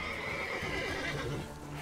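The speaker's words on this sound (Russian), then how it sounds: "Так, а ну-ка мне лошадку, дайте-ка сюда." A horse in The Witcher 3: Wild Hunt whinnies while its hooves clip-clop, both fairly close and quiet, with no talking over the game audio.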